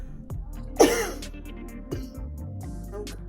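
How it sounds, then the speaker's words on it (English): A single sharp cough from a person sick with COVID bursts out near the start, followed by quiet breathing and faint room noise, with a smaller throat sound a moment later. "I think that was probably my second time coughing for the day"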